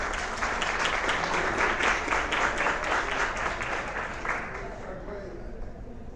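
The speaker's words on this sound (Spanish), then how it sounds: "Vamos a recibirlo con un fuerte aplauso" An audience at a live event applauds with a steady wash of clapping that continues strongly for several seconds, then thins and fades out near the end.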